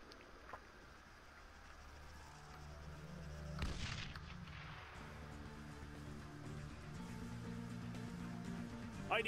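Incoming gunfire in Arma III rings out as a distant boom with one sharp crack, followed by low rumbling, faint and under a quiet game soundscape.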